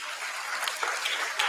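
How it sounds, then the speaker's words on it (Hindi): Seminar audience clapping for themselves, a dense, steady wash of many hands applauding at fairly even loudness for about a second and a half, with no talk over it. "खुद के लिए एक बार ताली बजाओ सब लोग अभी"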